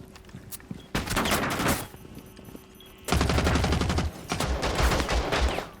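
Automatic hip-fire gunfire in Rainbow Six Siege rattles out in quick bursts, several rapid volleys separated by short pauses and sounding near and sharp against quieter game ambience.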